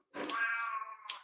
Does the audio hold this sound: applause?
no